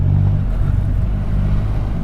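A Triumph Rocket 3 GT 2020 motorcycle's large engine rumbles at low revs below 2,000 rpm in second gear, a loud, steady, deep throb with no one speaking.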